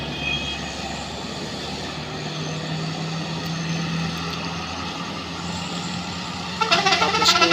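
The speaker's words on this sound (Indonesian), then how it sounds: "ini dia Grand Max tujuan Nias. Oke. Tujuan Nias langsung digas saja." A Daihatsu Gran Max strains up a steep hill on the Trans-Sumatra road, its engine giving a continuous loud drone with a low steady hum. Sharper noise rises near the end.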